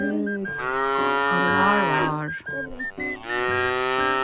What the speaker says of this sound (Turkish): İki tane inek var.